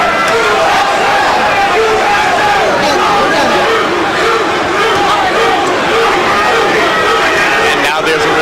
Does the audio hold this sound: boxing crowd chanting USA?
yes